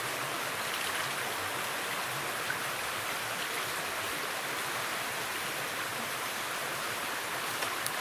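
Clean spring water flowing beside a hiking trail in Kamchatka, a steady close rushing and splashing that holds evenly throughout with no voices.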